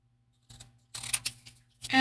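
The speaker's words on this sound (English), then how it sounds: "Grab my scissors." Scissors trimming a paper card, a few short crisp snips and paper rustles separated by brief silences, close and clear.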